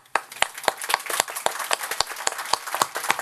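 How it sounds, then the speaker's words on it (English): A crowd at a Memorial Day ceremony in Shelby County claps steadily, individual hand claps standing out crisply in a brisk, uneven rhythm, fairly close and loud. "Roger, I want to applaud you."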